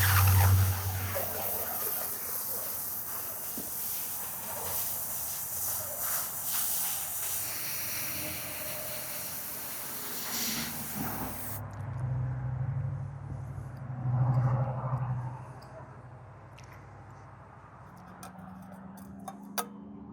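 Xlaserlab X1 Pro handheld laser cutting a metal patch, a continuous broadband hiss with crackling that abruptly thins halfway through, over a low machine hum.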